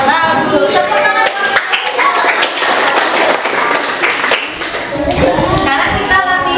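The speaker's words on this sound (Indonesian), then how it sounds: "Tepuk tangan." Schoolchildren clap together in a classroom, loud continuous clapping close by with light chatter mixed in toward the end.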